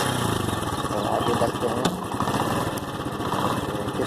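A motorcycle engine putters steadily at close range, idling and pulling away, while someone speaks over it in Hindi.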